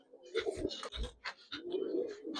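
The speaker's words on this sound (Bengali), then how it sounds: "এই গত বছরে এগুলা পাল্লা করা কবুতর" Racing pigeons coo nearby, a few low throaty rolling calls mixed with faint rustling, brief and close.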